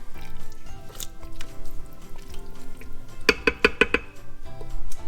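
A spoon scrapes and sloshes through thick lasagna soup in a cooking pot, with soft wet squishes and a quick run of clinking taps against the pot's side partway through, close and steady.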